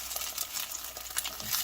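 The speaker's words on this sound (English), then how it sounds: "when you're frying an egg" An egg fries in a pan, giving a soft, steady sizzle with small crackles and pops scattered throughout, close but fairly quiet and with no voices.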